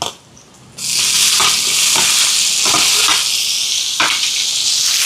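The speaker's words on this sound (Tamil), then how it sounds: "தக்காளி பழம் வதங்கட்டுக்கும்" Tomatoes and onions sautéing in a pan, with a loud, continuous hiss that surges in after a quiet start and is broken by occasional stirring scrapes, no voices.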